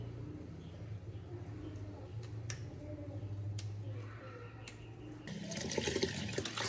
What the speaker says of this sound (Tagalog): Hugasan ko lang itong kangkong.